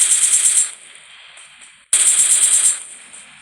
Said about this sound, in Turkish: Bakın üç kere sıkarsanız ölüyor.